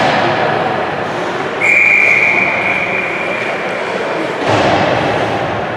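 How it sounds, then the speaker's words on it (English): A referee's whistle blows one sustained shrill blast during an AA hockey game in Kelowna, loud over steady arena noise, followed by a thud. "Inadvertent whistle."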